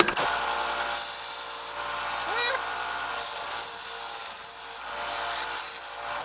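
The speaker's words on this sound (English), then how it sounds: "That's over, let's sand." A titanium fishing lure being sanded, a continuous close rasping grind that swells and eases over several seconds, with bursts of higher whine in between.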